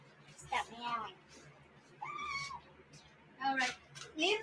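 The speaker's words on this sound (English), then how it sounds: "Hey, stop meowing." A house cat meows several times in short drawn-out calls, close and fairly quiet, with faint background noise between the cries.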